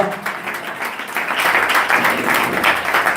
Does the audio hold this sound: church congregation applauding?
yes